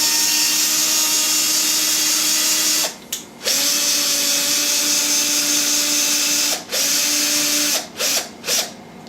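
Cordless drill used as a power feed, driving the compound slide of a lathe through a universal joint and socket: steady whirring motor drone, close and loud, briefly stopping and restarting several times.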